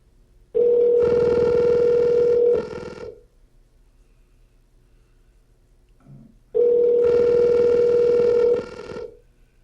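A phone line rings during an outgoing call with two long, loud, steady ring tones, each about two seconds, separated by several seconds of near silence, no talk over them.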